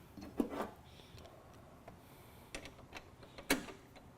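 Bolts being tightened during a front suspension install on a Mustang, a few faint, sharp metallic clicks and ratchet ticks spaced out over a quiet background.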